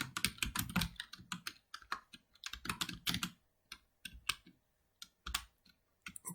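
Quick clusters of keystrokes on a computer keyboard while MySQL values are entered, irregular bursts of clicky typing separated by short pauses, close and fairly quiet.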